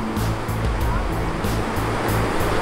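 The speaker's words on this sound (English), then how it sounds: "Oh, that's a nice wave, even though it's tiny." Small surf waves break and wash along the shore at Cape Canaveral, a steady, dense rush of water with wind noise throughout, loud and continuous with no clear pauses.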